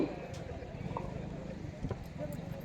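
Rapid hoofbeats of a bullock pair pulling a cart in a bullock cart race at Kusbe, with a commentator talking loudly over steady crowd noise.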